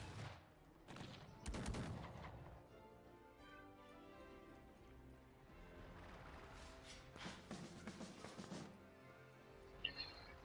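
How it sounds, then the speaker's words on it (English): A volley of cannon fire in the Cossacks 3 strategy video game: a burst of booming shots early, then scattered further reports and crackling gunfire at low volume. "let's fire with our 42 cannons"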